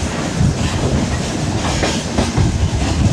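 A freight train's wagons roll steadily along rails in northern Russia's Karelia, a loud continuous rumble with rhythmic clickety-clack of wheels over joints, heard from close by inside or on the wagon.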